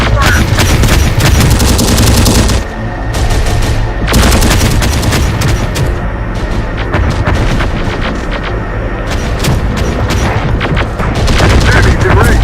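Sustained gunfire in the video game Terminator Dark Fate Defiance: dense, loud volleys of rapid shots and booming impacts that keep going with only a brief lull, with soldier voice callouts mixed in.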